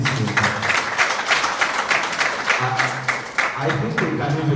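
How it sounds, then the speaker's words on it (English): An audience at a World Cancer Day celebration applauds guests with dense, close clapping while a voice sounds over it. "I want you to give a round of applause to our dear guest from Acrio Global"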